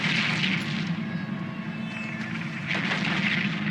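A spaceship explodes in the video game EVE Online, a deep rumbling blast with a roaring swell at the start and another surge near the end, loud and sustained over a low droning background.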